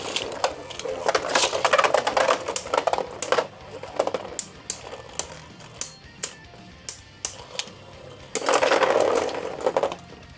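Beyblade Burst spinning tops clashing in a stadium in high mode, bursts of whirring metal-and-plastic grinding with sharp repeated clicks and clacks, close and loud, with a person talking intermittently.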